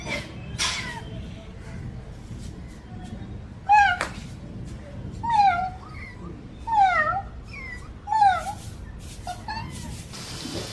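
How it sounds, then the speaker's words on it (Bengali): A cat meowing outdoors, four or five distinct meows spaced a second or so apart, fairly close, with faint background noise between calls. "ওই দেখ আমগো মেয়াও দেখা যা ওই দেখ ওই দেখ মিয়াও"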